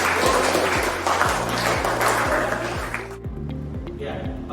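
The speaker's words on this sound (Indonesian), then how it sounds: "Tepuk tangan buat kalian." Applause from a classroom of students at the end of a maritime emergency lesson, a dense burst of clapping that rises then stops abruptly, with a voice speaking underneath and a rhythmic low tone continuing after.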